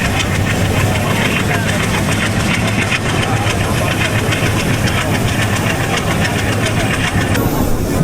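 Ovijatri commuter train stopped briefly at Chapta station at night, its engine idling with a loud, steady, knocking rumble and broadband clatter that runs unbroken throughout, close by.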